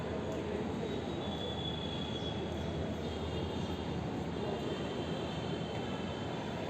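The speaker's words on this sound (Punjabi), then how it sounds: "ਲੋ ਜੀ ਆ ਗਈ ਆਪਣੀ ਮੈਟਰੋ" Steady low rumble of a metro train in Jaipur arriving along rails with a faint high squeal, continuous and unbroken, heard from a platform.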